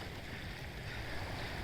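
Unam River in Lahaul, Himachal Pradesh flowing gently in the early morning, a steady wash of water noise with some wind, constant and without voices.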